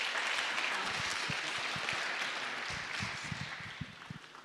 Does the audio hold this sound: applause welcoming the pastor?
yes